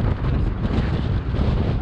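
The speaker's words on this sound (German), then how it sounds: "Es windet etwas." Strong storm wind buffets the microphone outdoors during a gale while mountain biking, a loud, continuous rumbling roar without a break.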